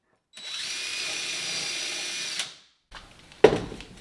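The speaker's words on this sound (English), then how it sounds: "and we drill it out." A power drill whirs steadily for about two seconds drilling shelf pin holes through a jig, and winds down, followed by a few clunks and a sharp knock nearby.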